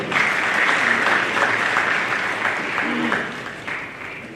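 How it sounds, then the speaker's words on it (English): Steady applause from a large crowd at a political forum fills the whole stretch, dense and continuous, with faint voices mixed into the clapping. "Please put your hands together for him."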